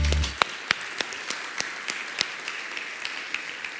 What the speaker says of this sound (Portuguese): Você pode aplaudir Jesus por eles